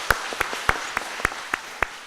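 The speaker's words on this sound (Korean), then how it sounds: "우리 하나님께 영광의 박수 한번 돌리겠습니다." Sparse, separate hand claps in a church congregation, about seven sharp strikes spaced roughly evenly over two seconds, moderately quiet against a hushed room.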